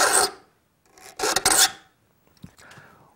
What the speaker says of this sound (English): One really nice thing about hand filing your own saws is that you can experiment with the geometry of the sawtooth.